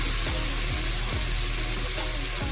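Chopped onions hit hot coconut oil in a pressure cooker in a home kitchen, giving a steady, moderately loud sizzle with faint intermittent scraping taps from stirring.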